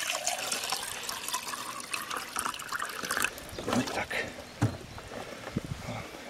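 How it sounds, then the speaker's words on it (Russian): Water poured from a small jar into a pot of super-hot pepper plants with dense soil, a soft trickling and splashing that runs steadily, fairly close and quiet, with a few louder spills near the end. "в один горшочек влить полбаночки"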